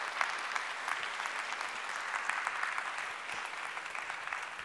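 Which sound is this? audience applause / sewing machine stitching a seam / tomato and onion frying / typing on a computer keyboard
audience applause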